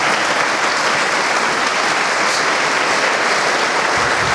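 Loud, dense congregational applause during a church service, a continuous roar of many hands clapping close by at constant intensity, with no speech over it.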